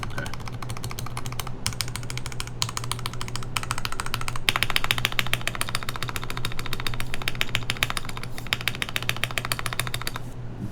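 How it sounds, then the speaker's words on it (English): Typing on a KLC Nori mechanical keyboard with a rattly spacebar, rapid continuous key clacks with periodic louder thocks over a low steady background hum. "Don't love the spacebar sound, it's kind of rattly."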